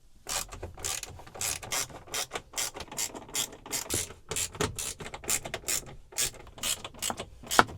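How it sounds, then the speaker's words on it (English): A hand ratchet clicks in rapid bursts, loosening small 7mm bolts around the stereo bezel of a 2005-2009 Ford Mustang, close up with short pauses between runs of turns. "the next step is to remove these 6 7mm bolts that go all around the bezel here"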